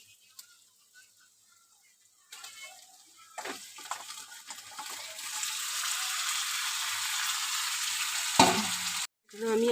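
Fried chicken pieces drop into a pan of spice masala cooked down until the oil separates, for a spicy country chicken curry, setting off a loud, steady sizzle that swells and holds after a quiet start, with a brief clatter near the end.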